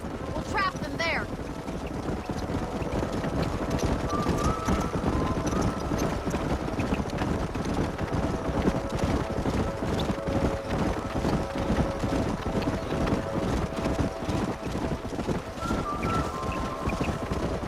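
Rhythmic hoof clatter of a herd of horses being driven up a canyon in the video game Red Dead Redemption, steady and close, under wind, with faint tonal game music.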